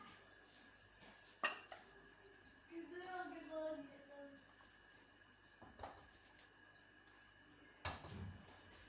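Quiet clinks of a spoon against a pot and a plate while serving potato-pea curry, a few separate scrapes and taps, with soft talking in between.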